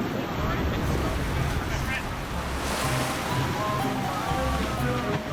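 Violent ocean waves crash and roar against a sailboat in deadly weather, a dense, continuous rush of surf and wind buffeting the microphone.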